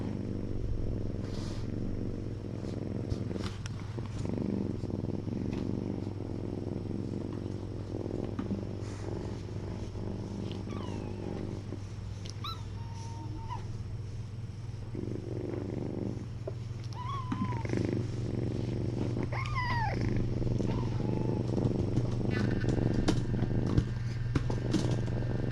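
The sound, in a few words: kitten purring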